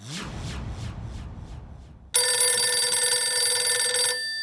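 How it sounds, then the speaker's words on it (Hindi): A telephone rings with a steady electronic bell tone that starts abruptly after a low rumble and holds loudly for about two seconds. "ये भिड़े बार बार क्यों फोन कर रहा है?"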